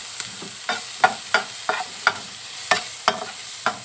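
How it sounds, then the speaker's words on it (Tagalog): Onions for escabeche are stirred in a hot frying pan, giving a steady sizzle under rhythmic scraping strokes of a utensil about every half second, close up with no voices. "Lagay na natin ang ating sibuyas."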